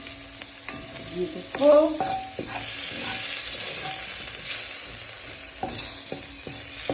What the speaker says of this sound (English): So just allow the curry to burn